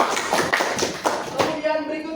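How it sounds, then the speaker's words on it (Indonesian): A group in a school class session claps in a few quick, rhythmic bursts of hand claps, close and fairly loud, which stop abruptly after about a second and a half. "Beri tepuk tangan untuk kita semuanya."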